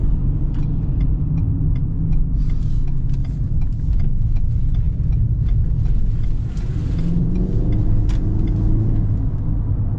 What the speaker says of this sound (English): not a lot of talking during driving